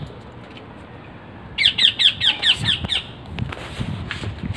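A pet parrot in free flight training gives a quick series of about six sharp, loud squawks in an even rhythm, close by, then falls quiet over low background noise.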